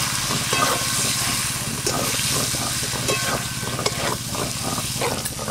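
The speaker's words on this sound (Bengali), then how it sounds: "এবার কেটে ধুয়ে রাখা বেগুনগুলো ভেজে নেব। লবণ দেব না, শুধু হলুদ গুঁড়ো দেব।" Cut eggplant pieces sprinkled with turmeric frying in hot oil, a steady dense sizzle with stirring scrapes running close and continuous throughout.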